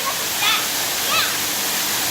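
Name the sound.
waterfall on Makamakaole Stream, Maui, Hawaii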